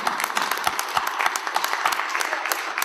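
A crowd at a community education forum applauds the teachers, with dense, lively clapping that carries on steadily and close by.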